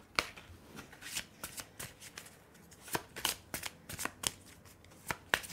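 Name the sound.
shuffling tarot cards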